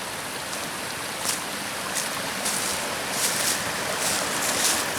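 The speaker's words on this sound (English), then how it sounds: "come for a leisurely stroll down by stream, river" A stream flows steadily through Scottish countryside near the River Eden, a constant broad rushing wash of water with slight surges and no voices.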